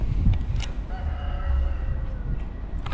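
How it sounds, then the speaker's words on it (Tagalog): A rooster crows at a distance from a neighbor's yard in Las Vegas, Nevada, its drawn-out call rising over steady low background noise, with no talking. "kung narinig yung may tumitilaok na manok dito sa kapitbahay"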